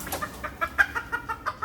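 A chicken clucks in quick, rhythmic bursts, close and moderately loud, as it is handled during a poultry show.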